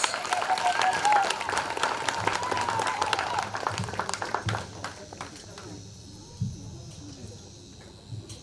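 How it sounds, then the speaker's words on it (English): Audience at a teachers training college graduation ceremony in Bungoma claps for a graduate, a fairly close patter that fades after a few seconds into a quieter room with thuds and brief voices. "Kindly clap for Juliet"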